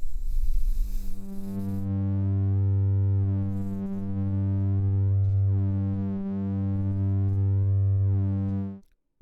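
A sine wave run through the ANA 2 synthesizer module gives a steady, loud buzzy tone rich in harmonics, pulsing gently in three long swells before cutting off abruptly near the end, with no talking.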